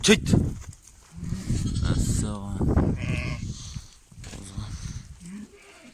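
Sheep held in a pen before shearing let out a few nearby bleats amid farmyard noise, while people talk over much of it.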